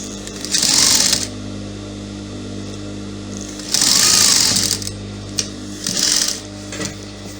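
A sewing machine stitches an off-shoulder top with double puff sleeves, running in three short bursts of steady whirring with quiet pauses between them, close and fairly loud.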